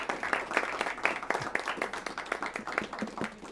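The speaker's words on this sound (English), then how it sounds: "Give our judges a big round of applause for being here today." Applause breaks out for the judges at a studio competition between PSJA North and Edinburg North, a modest room of people clapping briskly and distinctly for a few seconds, individual claps audible in the rhythm.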